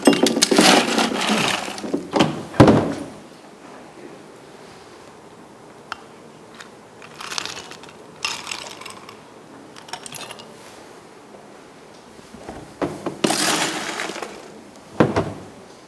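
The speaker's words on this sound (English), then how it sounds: "add some ice." Ice cubes are dropped into a glass for a drink, giving loud clattering clinks at the start, followed by scattered lighter clicks and taps as the cubes settle, with no talking.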